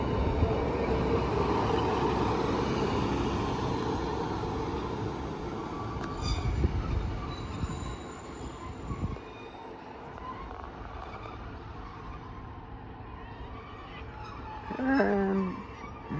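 A train pulls slowly into Grangetown station, its rumbling rolling noise fading as it slows, with a brief squeal of wheels or brakes near the end.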